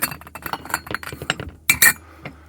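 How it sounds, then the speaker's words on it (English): A glass hanging ornament is handled and clinks against glassware in a rapid run of bright taps, then a louder double clink and a last faint tap. "Here's a glass hanging ornament."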